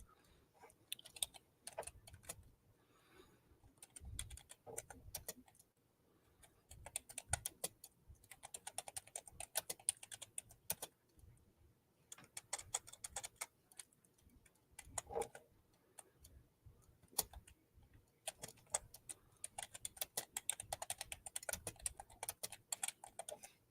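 Quick bursts of keystrokes on a computer keyboard, close and crisp, arriving in irregular clusters separated by short pauses, with no voices.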